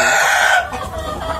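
Free-range Vietnamese hens clucking loudly and close, a short burst of strained, raspy calls that fades quickly.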